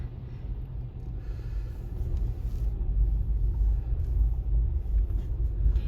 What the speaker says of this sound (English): now this car wants to come past through the water